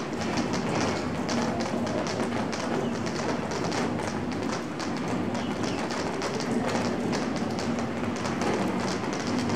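Light drizzle falls outside a hotel in Bandung on an overcast early morning, a steady soft patter and hiss across the whole stretch with faint bird calls in the background.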